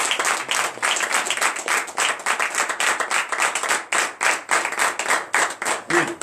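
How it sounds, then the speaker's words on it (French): A church congregation at a morning prayer service claps loudly in a fast, steady rhythm, sharp hand claps repeating close and clear for several seconds. "on applaudit très fort notre Seigneur"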